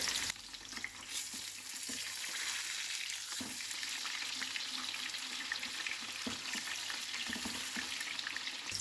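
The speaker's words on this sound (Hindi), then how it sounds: "तेल में बटर डाल के पनीर को फ्राई करने से तेल का छिटका बाहर नहीं आता है" Paneer frying in oil with butter for matar paneer, a faint, even sizzle running throughout with occasional soft knocks of utensils in the pan.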